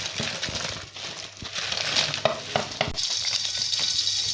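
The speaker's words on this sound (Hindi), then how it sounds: "अभी हम इसमें पकोड़े ऐड करेंगे।" Pakoras drop into simmering kadhi with tamarind water in a pan, making soft plops and splashes over a continuous sizzling, bubbling hiss that brightens toward the end.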